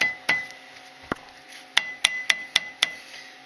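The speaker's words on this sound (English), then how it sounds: "You may even need a hammer to tap it in" Hammer tapping a brake caliper pin into place on a C4 Corvette: one sharp metallic tap, a pause, a few more, then a quick even run of five or six close, ringing clinks.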